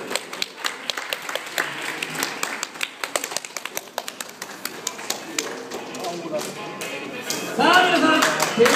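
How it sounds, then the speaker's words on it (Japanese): Spectators at a fighting event clap along as a fighter enters the ring, a dense, fast run of overlapping claps building into steady rhythmic clapping, with voices talking and calling over it near the end. "さあ皆さん、手拍子"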